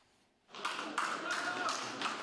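Applause breaking out at a Ukrainian district election commission when the Central Election Commission server is unblocked, a sudden swell of clapping from a small room of people, steady and moderately close after a quiet start.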